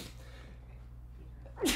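A single short, sharp human sneeze bursts out near the end after a quiet stretch with low background hum.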